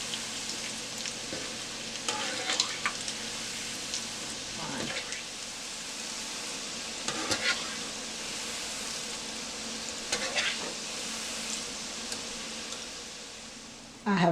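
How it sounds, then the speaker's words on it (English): Batch of chin chin dough snacks deep-frying in hot oil, a steady close sizzle and bubbling that runs throughout with occasional stirring clinks, no talking. "I'm going to fry all of them. This is my last batch frying."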